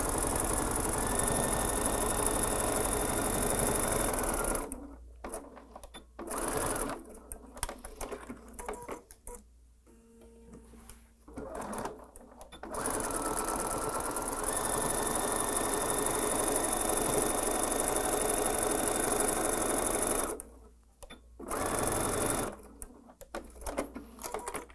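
A sewing machine stitches the side seams of a small quilted fabric charm bag, running in long steady bursts with brief pauses between seams, loud and close with no talking.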